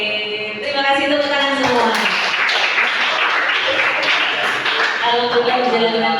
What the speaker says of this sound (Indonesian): terima kasih tepuk tangan semua